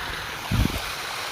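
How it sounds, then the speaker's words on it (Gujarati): A water stream rushes in a steady broadband flow for about a second, with a single low thump midway and no voices. "આ રીતના કંઈક પાણી જાય, તમને બતાવું"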